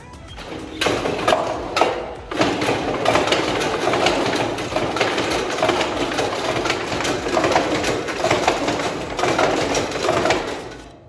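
A gold mill ore processing machine runs loudly and continuously nearby, a dense mechanical roar with rhythmic clattering and grinding throughout.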